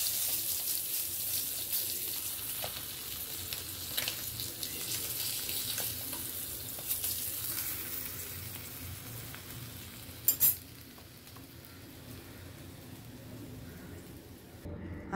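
Fish fries crisply in a pan, giving a soft continuous sizzle with faint stirring and occasional clinks; the sizzle is steady throughout and dies away briefly near the end.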